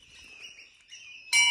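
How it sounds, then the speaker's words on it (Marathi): Birds chirping at the Dhom Dhrutpapeshwar temple and tank near Wai, a few thin, high, sustained tweets close by, ending in a sharper, louder call. "तसा पक्ष्यांचा आवाज येतोय."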